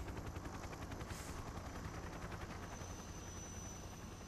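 Helicopter in the Metal Gear Solid 3 video game, a dense steady rotor chop and engine roar filling the whole stretch at a constant level, with no voices.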